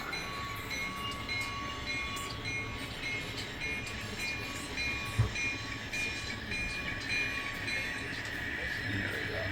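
Model railroad train pulling freight cars on a layout, a continuous low rumbling run with steady mechanical whine and faint clicks, heard from close by at moderate level.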